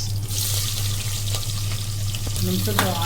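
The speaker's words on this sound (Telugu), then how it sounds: "ఇలా 1 నిమిషం డీప్ ఫ్రై అయిన తర్వాత కొద్దిగా ఆనియన్స్, పచ్చిమిర్చి" Chopped green chillies and onions frying in hot oil in a pan for a restaurant-style mutton curry, a steady close crackling sizzle with a few stirring scrapes, no speech.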